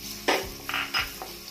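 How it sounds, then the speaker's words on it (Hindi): Finely chopped garlic going into two spoons of hot olive oil, a few short close bursts of sizzling and stirring scrapes against the pan, separated by brief quieter gaps, with no talk. "सबसे पहले हम ऐड करेंगे इसमें ऑयल, ऑलिव ऑयल दो बड़े चम्मच। देन हम इसमें ऐड कर रहे हैं गार्लिक चॉप की हुई बारीक।"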